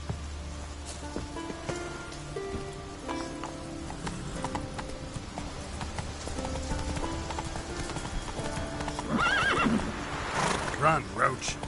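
In The Witcher 3 game, the horse Roach's hooves clip-clop at a steady gallop, then several sharp neighs ring out near the end, with a voice speaking over the hoofbeats.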